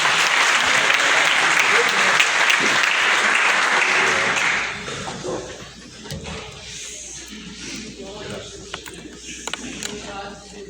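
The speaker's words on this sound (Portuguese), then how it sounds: "Se você puder aplaudir ao Senhor," A church congregation bursts into loud, dense applause for about four seconds. The applause then fades into a quieter hall with scattered noises and low murmuring.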